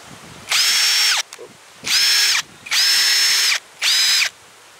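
A power drill drives a screw-in tent peg into the ground, whirring in four separate bursts of about a second each, close and loud, with short quiet pauses between them.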